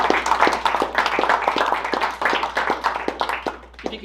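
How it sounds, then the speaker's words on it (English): Audience applause for readers and editors at a storytelling showcase event, a medium-sized crowd clapping steadily and briskly, fairly close, tapering off slightly toward the end. "Let's have a round of applause for all our readers and editors."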